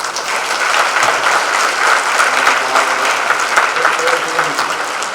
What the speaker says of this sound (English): would you give each of these all a hand of applause?